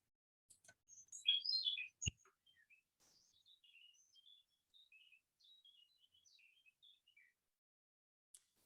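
Song of a Eurasian blackcap, a clear warbling phrase of quick, rich notes followed by softer twittering, heard alone in a quiet setting with a brief click partway through.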